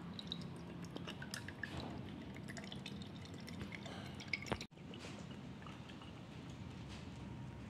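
Sari Choco Milk chocolate milk drink is poured in a quiet close stream with small drips and splashes, then a brief clack near the end, all faint.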